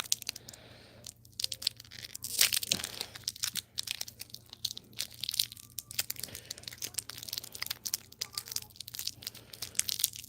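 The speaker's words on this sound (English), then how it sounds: "Is that crinkling kind of annoying?" Plastic packaging being crinkled and crumpled close by, a continuous irregular crackle with sharper crunches, no talking over it.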